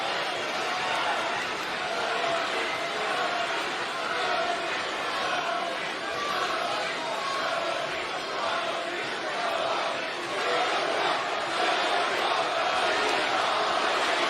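A wrestling arena crowd at a WWE Raw promo between CM Punk and Cody Rhodes keeps up a steady, divided roar of mixed cheers and chants, a broad noisy wash heard from a distance that holds evenly throughout.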